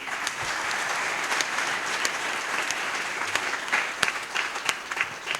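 A church congregation at a farewell Mass applauds its priest, with steady applause from a crowd and scattered louder individual claps standing out near and far.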